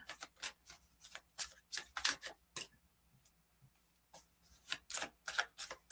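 Tarot or oracle cards shuffled by hand in a quiet room, giving a run of crisp riffling bursts and soft slaps that pause for about a second and a half before resuming close up.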